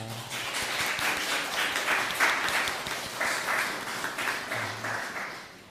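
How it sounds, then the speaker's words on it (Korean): A church congregation at a Sunday service claps to welcome newcomers, a steady wash of applause from many hands, moderately near and sustained throughout. "우리 옆에 있는 분들 박수로 환영하겠습니다."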